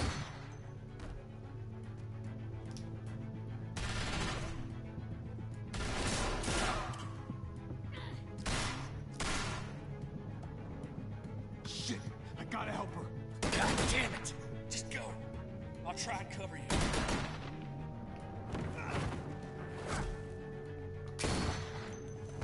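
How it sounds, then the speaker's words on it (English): Bursts of gunfire crack out repeatedly, some in rapid volleys and some as single sharp reports, mixed with shouting and commotion in the background. "I hear gunfire!"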